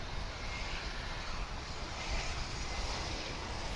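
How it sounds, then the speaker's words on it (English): A Boeing 767 jet airliner at DFW airport gives off a steady, broad engine roar that holds even and fairly distant throughout, with no voices over it. "So let us get back to this 767. Again, this is on its way to Ontario,"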